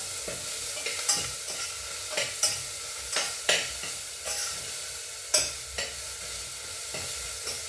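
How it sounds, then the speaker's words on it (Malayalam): Food stirred in a pan on the stove, soft steady sizzling with repeated scraping and tapping strokes of a spoon against the pan, fairly quiet and close. "അപ്പോൾ നമുക്കതൊന്ന് ഇളക്കി കൊടുക്കാം."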